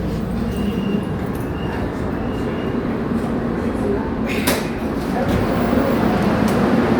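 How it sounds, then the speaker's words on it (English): Loud, steady rumble of a train running through a tunnel on a St. Louis light rail line, a dense roaring drone with a few sharp clanks near the middle. "I was going through a tunnel just now. So as I was saying, just as noisy."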